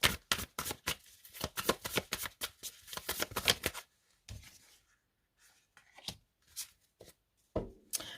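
Tarot cards shuffled and drawn by hand, a rapid run of crisp riffling flicks and snaps followed by sparser slaps and slides as single cards are laid down, close up.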